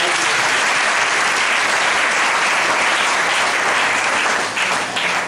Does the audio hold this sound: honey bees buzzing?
no